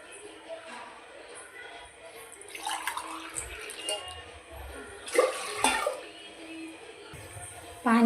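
Glassfuls of water are poured into a pressure cooker set on a gas stove, giving short splashing gushes separated by pauses, with a quiet voice speaking now and then.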